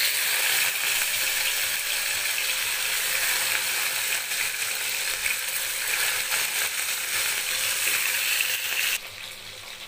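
Salt- and turmeric-coated hilsa fish frying in hot oil, a loud, steady hiss and crackle filling the whole stretch, dropping slightly in the final second.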